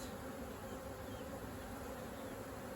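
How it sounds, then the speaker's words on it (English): Honey bees in an open hive make a dense, steady buzzing close by, a continuous swarm drone that holds unbroken throughout with no voices. "There's still a lot of bees."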